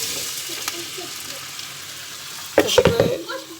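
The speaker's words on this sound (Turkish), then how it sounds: "Arkadaşlar patatesimiz kızardı, piştiler." Potatoes frying in oil in a pan, a steady low sizzle that gives way near the end to a few louder bursts of crackling and stirring.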